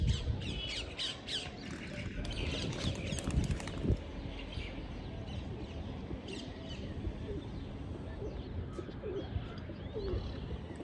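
A flock of pigeons at their loft gives off soft, continuous cooing and squawking calls, fairly faint and layered, with occasional brief rustles.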